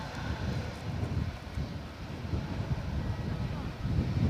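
A plane at Edinburgh Airport gives a low, rumbling engine roar through heavy wind buffeting on the microphone, continuous and fairly faint, with no talking.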